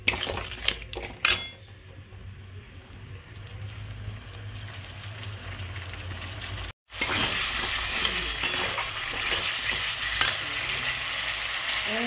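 Spices and masala for a koi fish curry with potato and cauliflower sauté in a pan, a continuous sizzle broken by spoon scrapes and metal clinks, close and fairly loud, with a brief dropout midway and no voices.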